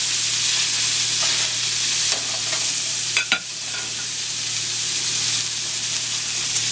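A steak fries in oil in a pan with a steady, bright sizzle and hiss, broken briefly by a short clatter as the meat is shifted.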